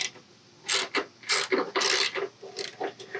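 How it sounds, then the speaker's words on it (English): A ratchet tightening 16 mm nuts on heavy-duty side steps fitted to a 2021 Ford Bronco, with repeated close, loud bursts of pawl clicking separated by short pauses. "Grab a 16. See, that's starting to snug down too. These are all going to be 16s. So I'm going to start tightening those down."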